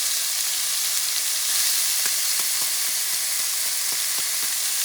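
Onions frying in a pot for venison chili with black-eyed peas, giving a steady, even sizzle with a few soft clicks of stirring, close by and alone.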